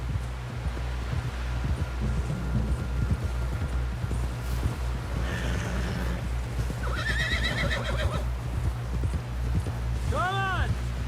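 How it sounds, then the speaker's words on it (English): Horse neighs and hooves clip-clop steadily in Red Dead Redemption 2 while someone talks, with a loud whinny near the end over a rustling outdoor background. "Someone help John down off this horse"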